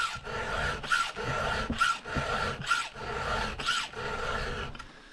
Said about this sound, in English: We just turned the saw around the other way, and now we're going to file the other side.